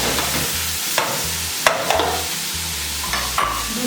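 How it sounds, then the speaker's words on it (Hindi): Food stirred and fried quickly in a pan for Chinese rice with chicken Manchurian, with rhythmic scraping strokes of a utensil over a steady sizzle and a low hum underneath. "तो तेजी से फ्राई किया"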